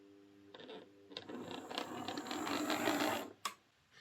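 A model Pug locomotive on a replacement motor and chassis runs with a faint, close whirring and rattling that swells and then stops, ending with a single sharp knock.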